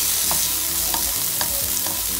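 Peppers fry in a pot for a traditional stewed fish curry, a loud continuous sizzle broken by a few soft stirring scrapes.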